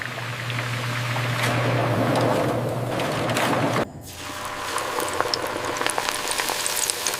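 A dense, steady sizzle and crackle of Pringles potato chips frying in hot oil on a factory line, loud and close, which briefly cuts out halfway and then resumes.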